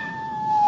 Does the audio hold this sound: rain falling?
no